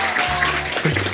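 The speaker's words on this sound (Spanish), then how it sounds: "Ahora, un aplauso." A studio audience at a Valencian TV variety show claps in a short, dense burst of applause, mixed with low background tones and a little chatter.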